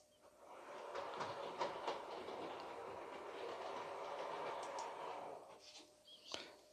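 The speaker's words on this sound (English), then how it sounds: "So now we're going to send the loco back up through this way, through both double slips onto this line." A model railway locomotive rolls through two double slip points, making a faint, continuous rumble with soft clicks of wheels crossing rail joints.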